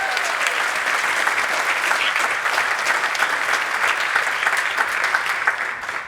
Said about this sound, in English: Can I get a round of applause for all of you?